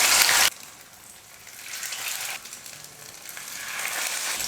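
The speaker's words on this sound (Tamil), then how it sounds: "கடாயில் எண்ணெய் ஊற்றி வச்சுட்டேன். எண்ணெய் வந்து நல்லா காஞ்சிடுச்சு." Hot oil in a kadai pan for potato snacks sizzles steadily and close, with a brief loud burst at the start and then a softer, rising hiss that swells and fades.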